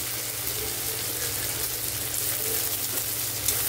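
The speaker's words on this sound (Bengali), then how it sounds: "এখন দিয়ে দিলাম কুচনো পেঁয়াজটা হালকা ব্রাউন করে ভাজবো" Chopped onion frying in hot oil in a wok, added after cumin and bay leaf, gives a steady close sizzle with faint stirring and light clatter throughout, no voices.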